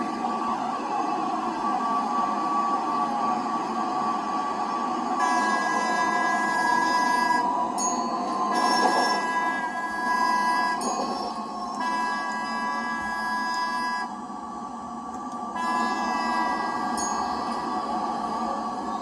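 A tram consist of three coupled two-unit sets runs on an isolated network with an underground section in the Rails Unlimited train game. It gives a steady rolling rumble with whining tonal layers that rise and fall, and no talk.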